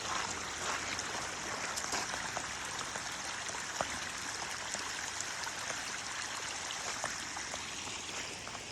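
Steady rushing water pours from drainage pipes onto a flooding bridge ramp in rain, splashing continuously, a broad hiss of runoff with occasional drips, no voices.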